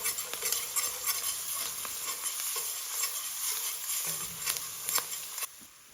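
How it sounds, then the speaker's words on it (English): Curry powder and turmeric powder are stirred in a hot frying pan: a loud, close, continuous sizzle with repeated scraping stirs, stopping abruptly near the end. "I'll add 2 tablespoons of curry powder, a half teaspoon of turmeric powder. Give it a stir and cook for 1 minute."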